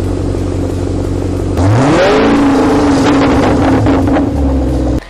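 The Cadillac XLR-V's Northstar engine revs hard, a steady idle rising into a loud, sweeping climb that holds high and close before dropping back, with some wind buffeting and no talk.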